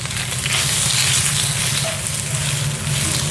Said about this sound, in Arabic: أنا حشغل الشفاط، فهذا صوت الشفاط